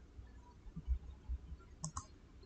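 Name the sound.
computer mouse clicking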